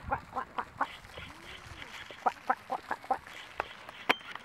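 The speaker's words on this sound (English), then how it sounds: "Look at these ducks." Ducks quack outdoors in a rapid, uneven series of short, nasal calls at moderate distance, with a few fainter bird sounds among them and no talk.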